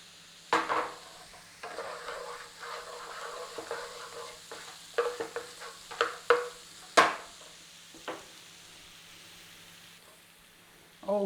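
Something cooks in a pan with a soft, continuous sizzle broken by sharp scraping stirs and clinks of a utensil against the pan, the loudest around the middle, with no talking.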